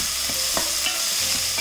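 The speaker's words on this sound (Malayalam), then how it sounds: "ഞാൻ ഫ്ലെയിം മീഡിയം ഫ്ലെയിമിൽ വെച്ചിട്ടാണ് ഇത് വഴറ്റിയെടുക്കുന്നത്" Onion and capsicum sauté in a pan over a medium flame, a steady close sizzle layered with scraping stirs of a spatula and no speech.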